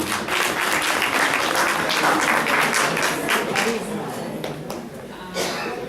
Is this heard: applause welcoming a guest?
yes